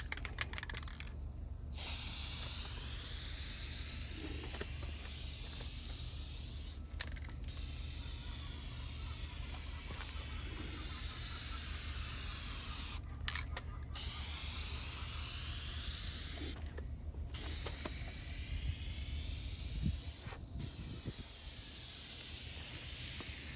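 Aerosol can of Hyper Dip spraying a heavier coat onto an antenna. Long, loud, close hissing bursts are separated by brief pauses, about five sprays in all.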